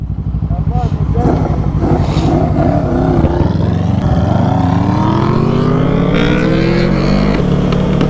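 Honda CBR 600RR motorcycle engine spitting exhaust flames, loud and close, with choppy popping revs that rise into a climbing high-revving wail, while people talk excitedly over it.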